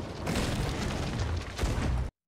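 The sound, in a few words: cannon firing in a video game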